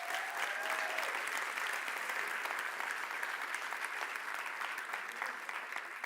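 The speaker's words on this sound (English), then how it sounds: "we should give him a little round of applause." Steady round of audience applause, even and continuous for several seconds at moderate volume, with no talking over it.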